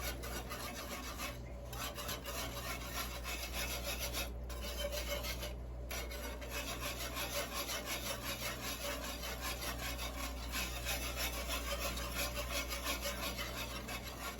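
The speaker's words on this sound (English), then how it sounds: "It won't take long for this to thicken. Just keep a whisking." A whisk works continuously through a thickening sauce for chicken à la king in a pan, a soft steady scraping and rasping with an even rhythm throughout.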